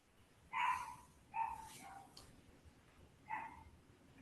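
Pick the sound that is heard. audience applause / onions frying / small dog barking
small dog barking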